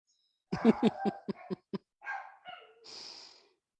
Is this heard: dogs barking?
yes